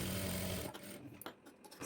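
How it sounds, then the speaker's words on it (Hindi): A sewing machine stitching a blouse, its steady whir heard up close for under a second before it stops, leaving faint handling clicks and rustles. "अब इसके ऊपर एक दाब सिलाई लगा लेंगे।"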